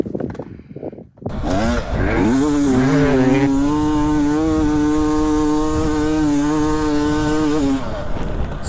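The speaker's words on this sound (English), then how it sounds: "the 450 EXC is the hill climb winner in these sand hill climbs" A KTM 450 EXC dirt bike revs up a sand hill climb. After a brief quiet start, the loud engine jumps to a high, sustained, buzzing wail that holds steady for several seconds before easing off.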